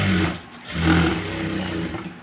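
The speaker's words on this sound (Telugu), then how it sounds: "మళ్ళీ ఆ పైపింగ్ పక్క నుంచి కుట్టు అనేది వేసుకోవాలి" A tailoring sewing machine stitching a seam alongside fabric piping on a garment's front panel, a close mechanical whirring hum that speeds up, dips briefly, then runs steadily, with no voices.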